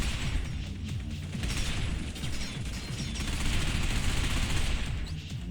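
Gunfire in the video game Binary Domain, a dense continuous barrage of rapid shots with booming low impacts, loud and sustained throughout without talking.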